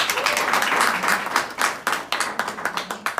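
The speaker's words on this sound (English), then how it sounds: "Please give her a round of applause." Audience at a corporate award ceremony applauding steadily, a dense wash of many hands that thins into separate claps toward the end.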